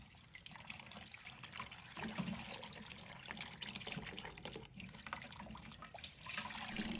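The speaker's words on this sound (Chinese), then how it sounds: "用流动水一片一片的生菜，让水流清洗掉表面杂质" Tap water runs steadily over lettuce leaves as they are rinsed one by one to wash off grit, a continuous close splashing trickle with no voices.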